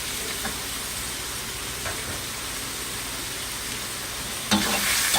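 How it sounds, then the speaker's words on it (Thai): Carrots, meat and broccoli stir-fried in a hot pan make a constant hiss with a few faint scrapes. A louder clatter and sizzle burst comes near the end. "อย่างเช่นแครอทนะคะ ผัดไปกับเนื้อสัตว์เลยนะคะ แล้วก็มอคคอรี่ค่ะ"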